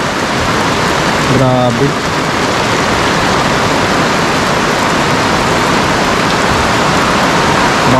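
Heavy rain pours in a loud, unbroken roar that fills the whole scene, and a person briefly exclaims partway through.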